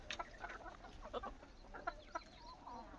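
A flock of around 120 free-range country chickens and hens cluck and chatter softly inside a wire-mesh poultry enclosure on an eight-guntha plot, with scattered overlapping calls at a moderate distance.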